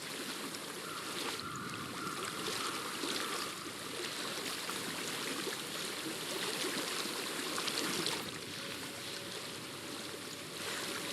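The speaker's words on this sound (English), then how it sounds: "I hear water." Continuous rushing of a flowing stream in the video game Hellblade: Senua's Sacrifice, a broad steady wash of water with no pauses, even in loudness and close by.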